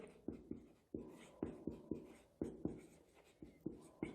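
Chalk or marker taps and strokes across a classroom board in a quick irregular series of short knocks and scratches, close and fairly quiet.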